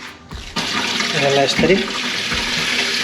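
Tap running cold water over boiled watercress in a sink, a steady splashing stream that starts abruptly and continues throughout, with a person talking over it.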